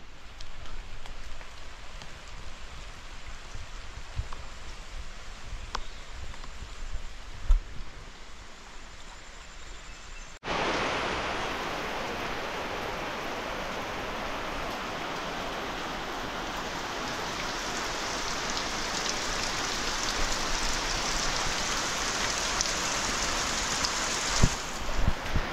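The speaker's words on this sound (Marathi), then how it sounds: "मुसळधार संततधार असा पाऊस पडतो आहे आणि ह्या मातीच्या कौलारू घरातून पावसाची एक वेगळीच मजा अनुभवायला मिळते आहे" Heavy, continuous monsoon rain falls on a clay-tiled village house, a soft patter at first that swells into a loud, steady roar of drumming rain with no voices.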